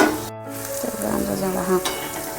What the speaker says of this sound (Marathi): टोमॅटो भाजायला घेतलेले त्यात तेल टाकलेले